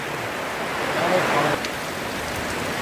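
Steady rain with wind rushing through it, a broad continuous wash of noise during a cold downpour with hail, swelling slightly in the middle and otherwise even throughout.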